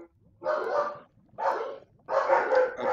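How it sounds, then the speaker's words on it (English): Several dogs bark in three loud, close bursts with short quiet gaps between them, and no talking over them. "My dogs are loud."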